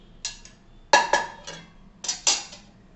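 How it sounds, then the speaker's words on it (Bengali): A fresh plate is picked up and set down in a kitchen while making a tri-colour sandwich, giving a few sharp ceramic clinks and taps spaced apart, close and clear. "এবারে আমি একটা এরকম ফ্রেশ প্লেট নিয়ে নিচ্ছি।"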